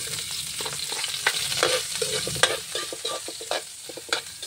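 Ginger, garlic and onion sautéing in hot oil, a steady close sizzle and fry with repeated stirring scrapes of a utensil against the pan throughout.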